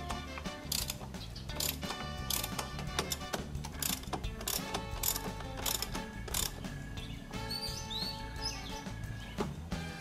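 A 12 mm socket ratchet clicks in fast, repeated bursts while tightening bolts on a part for an ADV160 motorcycle, close and fairly loud, with no talking.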